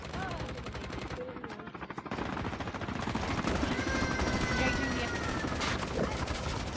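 Rapid automatic gunfire in a shooting video game, dense sustained bursts of shots running loud and continuous through the whole stretch, with game sounds layered in.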